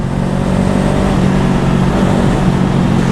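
A Honda Rebel 500 motorcycle engine drones steadily and loudly while riding in first gear, revving through the mid-range with a constant low rumble and no talk.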